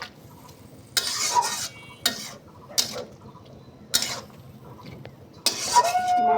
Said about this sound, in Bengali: এই যে মাছগুলোকে সামান্য হলুদ লবণ দিয়ে মেখে নেওয়া হচ্ছে